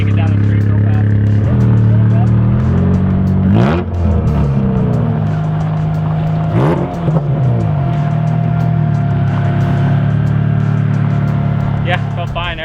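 A supercharged K24-swapped Acura Integra DA, built for time attack, revs hard down a street. Its loud, close engine climbs and drops through several gear changes in a continuous raspy roar.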